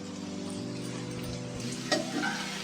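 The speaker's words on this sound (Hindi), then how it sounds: "इसे हम 2 मिनट के लिए इस तरह से भूनेंगे दोस्तों, ताकि हमारी सब्जी थोड़ी भून जाए।" Boiled vegetables are stir-fried in a pan with raisins while making fried rice. A soft, steady sizzle runs under a faint hum, and a brief scrape or clatter sounds near the end, with no talking.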